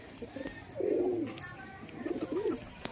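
Two rolling, low-pitched coos from a pigeon, the first longer and the second shorter, sound close but soft against a quiet outdoor background.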